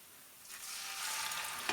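Tomato paste hits a hot pan for kısır, a quiet start swelling at once into a steady broadband sizzle that holds, with a brief louder crackle near the end; no one talks.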